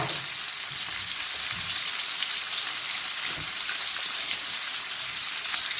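Green and red bell pepper strips frying over a high flame for Korean sweet and sour chicken, a dense, even hiss of hot oil that holds steady from start to finish, close and loud, with no talking.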